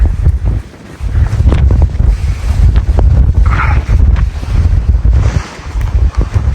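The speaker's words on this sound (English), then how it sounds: "You can tell how quick the wind is by how fast those clouds are going." Strong gusting wind buffets the microphone at an exposed UK camping spot, a loud continuous roar with heavy low rumble rising and falling throughout, no voices.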